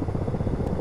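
A Ka-50 Black Shark helicopter in a flight simulator sounds its rotor as a loud, close, rapid thumping chop over a dense low engine roar.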